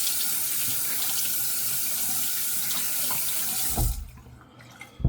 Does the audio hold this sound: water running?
yes